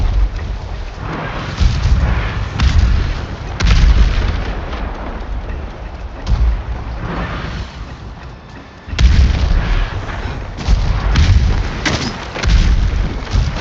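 Gunfire and explosions from the video game Ghost of Tsushima, with heavy booms landing every second or two and a rumbling, crackling roar between them, loud and close.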